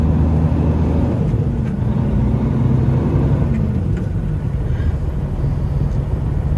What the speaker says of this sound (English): Look at all them trucks